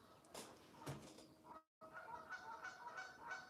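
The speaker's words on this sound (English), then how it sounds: "the geese confirmed we are live" Geese honk repeatedly in short nasal calls from some distance, fairly faint, with a brief dropout midway and no talking.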